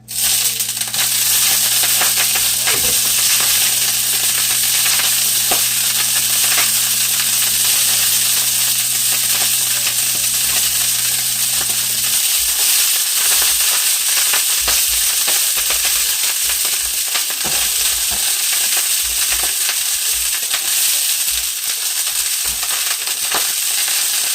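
Broccoli sizzling in olive oil in a pan over low to medium heat, a loud, dense, steady crackling hiss with scattered pops and faint clinks, continuous throughout with no talking.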